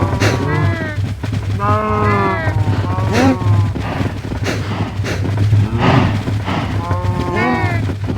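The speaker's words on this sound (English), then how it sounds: "How many cows do I have to feed?" A herd of cows mooing in repeated, overlapping drawn-out calls, fairly loud and close, over a steady low hum that runs throughout.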